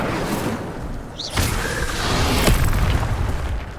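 An Incendio fire spell exploding in the Hogwarts Legacy game, heavy booming bursts with a whooshing flare, two sharp hits about a second apart over a continuous rumbling roar.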